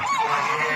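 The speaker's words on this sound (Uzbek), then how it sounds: "Bu qo'lmaq o'riski g'oz." A brief, loud honk from a goose nearby, one sustained nasal call against the cackle of others.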